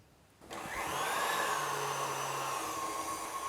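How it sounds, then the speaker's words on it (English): An electric mixer whisking egg whites and sugar into meringue starts abruptly after a quiet moment, then whirs loud and steady with a high motor whine that shifts slightly in pitch as it runs. "whisk it all together till we come to a medium peak"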